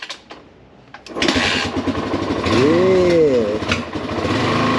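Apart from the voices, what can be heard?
Yamaha XT350 motorcycle engine being kick-started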